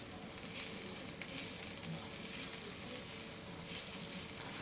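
Onions sizzling steadily as they fry in a little oil with a pinch of salt, a continuous close crackle with no talking.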